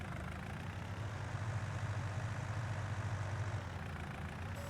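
A tractor engine idling in Farming Simulator 19, a steady low rumbling drone at moderate volume, heard alone without voices.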